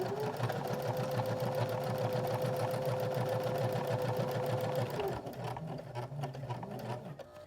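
A sewing machine stitches fabric for a small gnome ornament in a steady, fast mechanical whir with a sustained motor tone, then the stitching stops and gives way to softer fabric handling and light clicks near the end.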